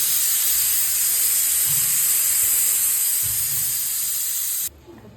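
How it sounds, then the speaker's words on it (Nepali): Tomatoes frying with mutton in a covered pan give off a loud, steady hiss of steam and sizzle that runs nearly throughout, then cuts off abruptly near the end. "अब यसलाई यस्तै राखेर एकछिन भुट्नुपर्छ"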